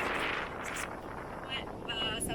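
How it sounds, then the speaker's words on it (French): Strong outdoor wind buffeting a microphone, a constant low roar and rumble across the whole stretch with faint higher noises on top, close and loud. "Je sais pas si vous m'entendez avec le vent."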